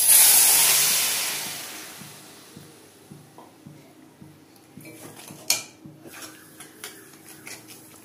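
Mango mixture poured into a hot wok with a loud steaming hiss that fades, then rhythmic spoon scrapes and clinks against the pan, close and with no talk.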